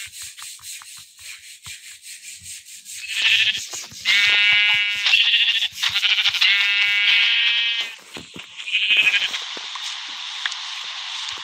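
A goat bleats in the Indian Bikes Driving 3D game, a loud, close, wavering cry repeated several times in quick succession over a steady hissing background.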